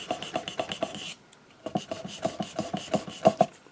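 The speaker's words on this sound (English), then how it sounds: "Hopefully I have enough sandpaper here to get around the whole thing" Sandpaper rubs over a painted glass mason jar in quick, rhythmic rasping strokes, close and fairly quiet, with a short pause partway through.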